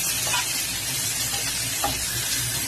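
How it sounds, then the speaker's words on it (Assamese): Onions and tomatoes fry in a pan for an Assamese fish curry with ridge gourd, a continuous close sizzle with a couple of soft stirring scrapes and no voices. "এয়া পিঁয়াজখিনি অকণমান ভাজি লৈছোঁ। এতিয়া পিঁয়াজখিনিৰ লগত বিলাহীখিনিও দি দিম।"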